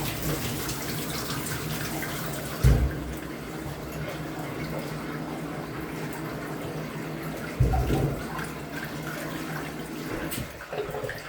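Water runs steadily from a tap in a continuous hiss, with a couple of brief thumps partway through.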